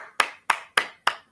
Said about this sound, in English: I'll give him his applause.